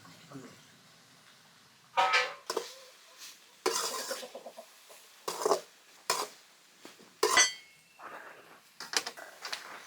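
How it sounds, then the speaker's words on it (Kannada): A spoon scrapes and clinks in a pan while crab masala is stirred with grated coconut, tomato, coriander and turmeric, giving irregular metallic knocks and scrapes over a low background. "ಸುಮ್ಮನೆ ಬೆಚ್ಚಗಾಗೋವರೆಗೂ ಒಂದ್ಸಲ ಮಿಕ್ಸ್ ಮಾಡ್ಕೋತೀನಿ ಅಷ್ಟೇ"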